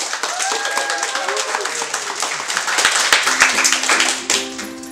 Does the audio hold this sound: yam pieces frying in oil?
no